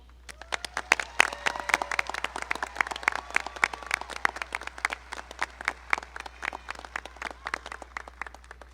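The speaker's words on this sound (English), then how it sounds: "Please join me in applauding all who are graduating today." Scattered applause from a modest audience at the McDowell High School 2018 graduation ceremony, distinct individual claps heard fairly close in a steady patter that continues for several seconds, with faint voices underneath.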